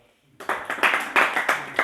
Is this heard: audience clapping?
yes